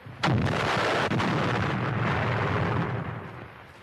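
A single sharp, loud rifle shot from a World War II German sniper cracks out once, then rolls off in a long, rumbling echo that slowly fades.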